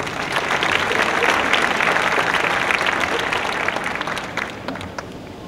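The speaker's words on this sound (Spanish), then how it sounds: "Así que un aplauso para Rodrigo, por favor" Audience applause fills a photography workshop session, a dense, steady clapping from a crowd that holds strong for several seconds before tapering slightly at the end, with no talk over it.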